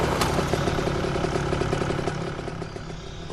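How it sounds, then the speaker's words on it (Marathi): A motorcycle engine idling and then pulling away, a steady mid-pitched throb with light mechanical clatter that eases off slightly toward the end. "तो एका मोटरसायकलवर बसला आणि निघाला."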